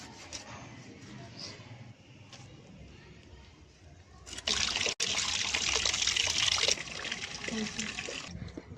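Pieces of cut aila fish being washed in water, a light trickle and dribble at first, then a loud steady rush of running water with splashing from about halfway, close by.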